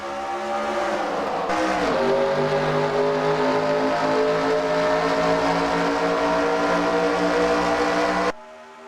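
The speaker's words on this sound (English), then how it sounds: "They're getting these cars wound up, and we are underway." A field of IROC race cars accelerating together at Michigan on the green flag, a loud, rising roar of engines winding up and holding a sustained howl before cutting off abruptly.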